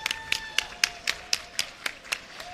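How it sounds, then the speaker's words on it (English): Sparse clapping at a fighting game tournament, about ten sharp claps in a fairly steady rhythm, moderately close, with faint tones and background noise between them. "Clap it up."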